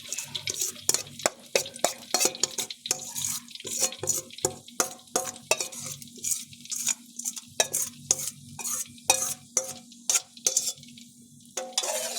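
Chili being added to hot oil and stirred for a homemade chili sauce, giving a run of close, irregular scraping and clattering stir strokes over a steady low sizzle, with no talking.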